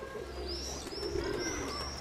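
Pigeons cooing softly in a loft, a few low, rolling coos repeated over about two seconds against quiet background, with faint higher chirps mixed in.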